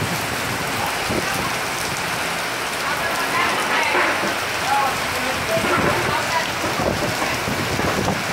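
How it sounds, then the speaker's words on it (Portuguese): Heavy rain pours down steadily, a dense hiss of drops drumming on surfaces throughout, close and loud. "Chovendo desse jeito."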